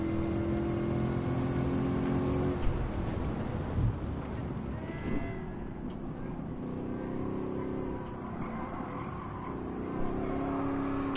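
A $250,000 car in Gran Turismo drives with a continuous engine drone that rises and falls in pitch as it revs through gears, and a faint voice comes through now and then.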